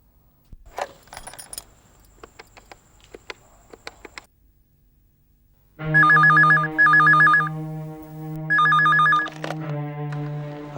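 A telephone call is placed, with clicks and coin-like rattles of dialing first, then a loud electronic ring that repeats in several bursts with short gaps.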